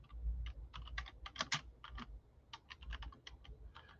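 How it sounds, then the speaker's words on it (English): Quiet, close typing on a computer keyboard, with a quick irregular run of light key taps continuing for a few seconds. "So I'm just going to type in hello again"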